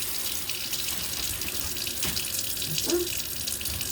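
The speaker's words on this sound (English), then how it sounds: "Just going to rinse it off. Once this plate all through." A kitchen tap runs steadily while a plate is rinsed under it, a constant close splashing wash of water with a faint clink partway through.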